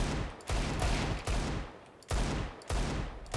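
Repeated AWP sniper rifle shots fired in a Valorant/CS:GO aim trainer, four loud, sharp reports spaced under a second apart, each with a booming tail, and no talking.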